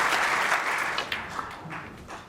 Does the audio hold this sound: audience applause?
yes